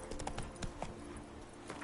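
Horse hooves clip-clopping in The Witcher 3 video game, a quick run of irregular hollow thuds and clops set against steady game ambience, with no voices.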